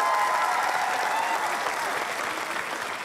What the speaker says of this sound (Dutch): Ik wil even een davend applaus voor Judith.